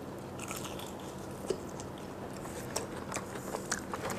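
Biting and chewing hotteok, a Korean sweet pancake, with soft moist mouth noises and a few sharper crunchy bites scattered through, close to the microphone and without talk.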